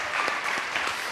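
A studio audience claps to welcome a guest on a Greek late-night talk show, a short burst of dense, lively applause at steady volume.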